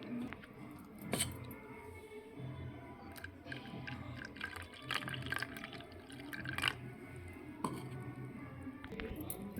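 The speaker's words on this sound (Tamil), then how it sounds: "இதில் நல்லா தண்ணி சேர்த்துட்டு வடிகட்டி எடுத்துக்கலாம்" Soaked urad dal, ground with water into a thin batter, is strained through a sieve with soft dripping, trickling and squishing sounds, a few sharper taps and clinks breaking in, all fairly quiet and close.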